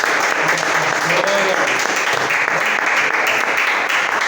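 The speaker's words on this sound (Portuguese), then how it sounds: "Aplauda o Senhor por essa palavra." A congregation at a Portuguese-language church teaching service bursts into sustained, dense applause that fills the space, with voices mixed in underneath.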